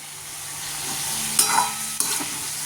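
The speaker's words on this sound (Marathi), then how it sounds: "छान अशी वांगी आपल्याला परतून घ्यायची आहेत मस्तपैकी" Eggplant sautés in a pan with a constant soft sizzle, and a couple of quick stirring scrapes and clacks stand out in the middle of this short stretch.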